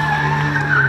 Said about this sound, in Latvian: Viņš bremzē.